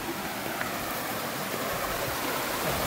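River water rushing near a waterfall on the Konkan coast, a steady broadband roar of flowing water, loud and continuous with no clear breaks, heard alone without voices.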